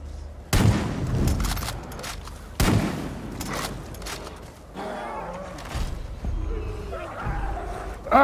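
Gunfire in the video game Far Cry 5: two sharp, loud shot bursts with echoing tails, followed by mechanical clatter and creaks, with someone talking throughout.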